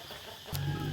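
Chickens on a countryside farm near Vientiane, Laos, giving a short burst of clucking close by, louder in the second half, with no talk.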